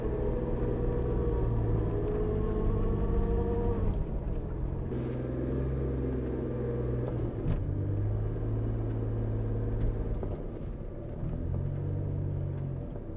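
A 1995 Daihatsu Charade drives at a rural property with a grinding fault from the right-hand front, giving a low rumbling, churning engine and road drone that dips and surges in uneven bursts.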